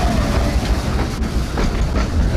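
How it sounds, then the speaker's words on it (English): Steam locomotive No. 12 Hutchinson pulls into a station on the Isle of Man line from Port Erin with four carriages, a loud, steady rolling rumble of wheels and clattering coaches close by. "here's the next train now coming in from Port Erin End"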